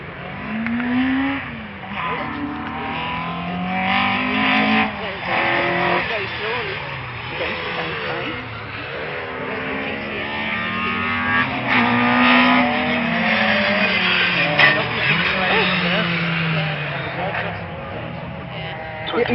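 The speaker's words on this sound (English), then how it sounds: "And there's another car." Rally car at the Jack Frost Rally, its engine note rising and falling as it drives past at moderate distance, with people talking over it throughout.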